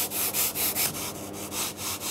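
Polyurethane foam blocks are shaped with hand tools, a sanding block or saw rasping in steady back-and-forth strokes, about eight even rhythmic passes up close.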